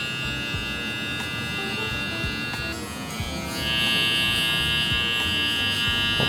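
Electric hair clippers buzz steadily up close while trimming a fade line during a men's self-haircut, their high whine shifting in pitch and growing louder partway through as the lever is adjusted.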